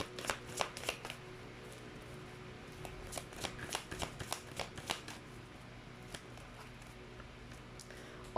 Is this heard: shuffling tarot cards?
yes